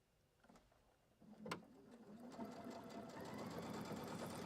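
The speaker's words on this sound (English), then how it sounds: "I can sew all of the parts at the same time" A sewing machine stitches the layers of a zipper pouch, starting after a few soft handling knocks and running as a steady, close, buzzing whir that builds and holds to the end.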